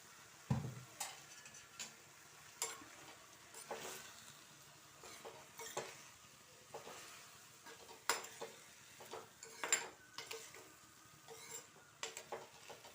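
A spoon stirs curry with fenugreek leaves in a pan, making soft, irregular scrapes and light taps over a faint low sizzle. The sounds are quiet and close, with no talking.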